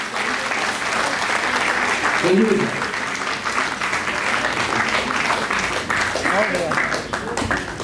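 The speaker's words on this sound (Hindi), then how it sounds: "जोरदार ताली बजाकर स्वागत करें।" Enthusiastic audience applause fills a hall at a ceremony honouring freedom fighters and martyrs' families, a steady dense clapping that runs unbroken for several seconds, with a faint murmur of voices underneath.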